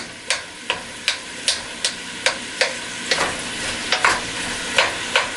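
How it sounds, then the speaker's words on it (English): Bacon chunks browning in a pot for pasta e fagioli, stirred in a steady rhythm of about a dozen sharp scraping strokes over a constant frying sizzle, close and without talking. "we want to stir this up. We're going to have to break some of the chunks of the bacon up, but we want to make sure that gets browned"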